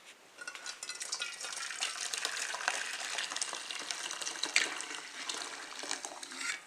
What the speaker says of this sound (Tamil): இப்போ இதை நம்ம வடிகட்ட போகிறோம்.